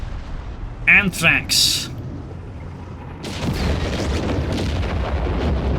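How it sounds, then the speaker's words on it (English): Howitzer artillery barrage in Company of Heroes 3, a loud rumbling blast and a few booming impacts, then a sustained roaring rumble of explosions continuing to the end, with someone commentating over the start. "Another massive artillery barrage here from Anthrax's howitzer"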